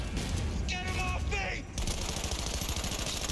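Gunfire in Cyberpunk 2077, a rapid, steady run of shots hammering close and loud under brief interjections of in-game voices, continuing without pause to the end.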